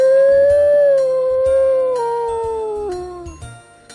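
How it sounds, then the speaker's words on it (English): A grey wolf in The Hoobs PS1 game gives a single long, loud, clear howl that slowly falls in pitch and fades out, with faint tones beneath it. "This animal is called a grey wolf."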